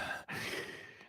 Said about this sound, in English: Listen to her heavy breathing.